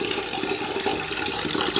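Tap water runs steadily into a pot being filled for tea, a continuous close splashing flow with no voices over it.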